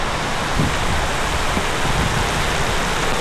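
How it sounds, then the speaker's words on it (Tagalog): Heavy rain pours steadily and loudly, a dense continuous hiss with no voices. "Sarap ng ulan!"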